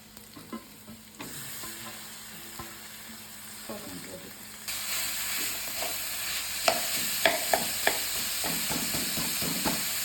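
Onions frying in a pan for a smoky mushroom dum biryani, a steady close sizzle that swells louder partway through, with scattered stirring clicks and scrapes and no talk.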